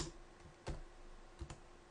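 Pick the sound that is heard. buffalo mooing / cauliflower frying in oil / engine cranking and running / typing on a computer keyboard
typing on a computer keyboard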